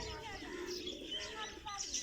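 Pigeons at a Pakistani farmhouse coo and chirp softly through the whole stretch, mixed with other small bird calls and light background noise, with no clear talk over them.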